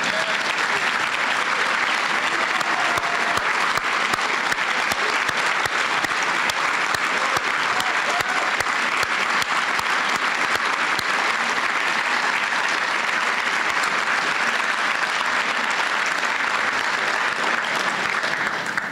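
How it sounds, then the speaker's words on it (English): A roomful of breakfast guests keeps up steady, dense applause for officers standing at a YouthConnect benefit, a loud even wash of clapping that holds unbroken from start to finish. "keep that applause going"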